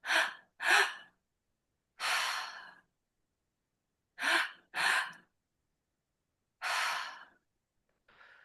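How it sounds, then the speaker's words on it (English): A person breathes in and out through the mouth in a slow, deliberate pattern: paired quick inhales followed by a longer audible exhale, repeated close and clear with silence between breaths. "doing in through the mouth and out through the mouth, I'll just give you a demonstration"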